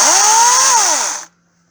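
A battery-powered EGO 56-volt 14-inch chainsaw cutting through wood, a loud close whine that bends upward and back down under load before cutting off abruptly, leaving near silence.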